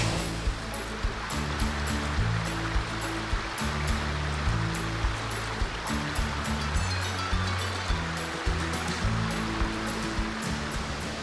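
A river rushes between the upper and lower waterfalls at Ball's Falls, Ontario, a steady broad wash of flowing water heard close and continuously, with a rhythmic thumping running beneath it.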